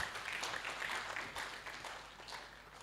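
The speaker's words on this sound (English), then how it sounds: "I think he needs a hand clap so that he can come bouncing" Steady applause from an audience at a live-streamed statistics bureau event in Uganda fills the space, a dense, continuous patter of many hands at moderate distance.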